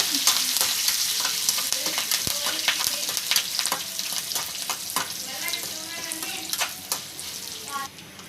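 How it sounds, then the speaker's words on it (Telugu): Spices and curry leaves crackle and sizzle in hot oil for a tempering, a dense, close, steady frying hiss with scattered pops and some stirring, without talking. "కరివేపాకు వేసారు కొంచెం, అది వేగిపోయాక"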